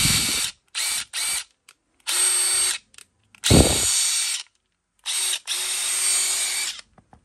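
DeWalt DCF850 impact driver running in repeated bursts of rattling, high-pitched hammering whine, each lasting about a second with silent gaps between them, loud and close with no talk.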